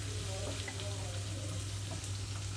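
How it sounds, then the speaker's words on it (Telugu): Onions and vegetable pieces frying in a pan, sizzling and crackling steadily up close over a constant low hum, with no one speaking. "2 నిమిషాల పాటు ముక్కలు వేయించుకుంటున్నాను."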